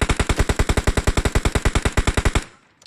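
Gunfire in the video game PUBG Mobile: a single sustained automatic burst of about two dozen evenly spaced, sharp shots, loud and close, then cutting off abruptly into near silence with no talk.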